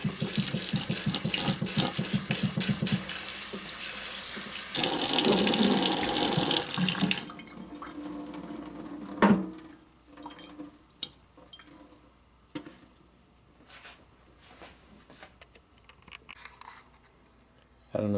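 Water is poured into cups holding fig tree cuttings, a loud splashing pour for several seconds, then quieter scattered clinks and handling sounds.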